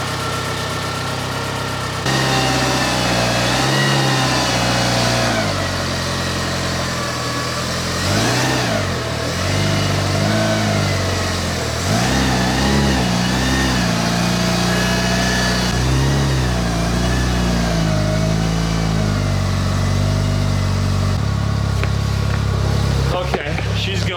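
A Nissan S15's engine idles and revs repeatedly up close, its loud mid-pitched drone rising and falling through several throttle blips before settling back to a rough idle.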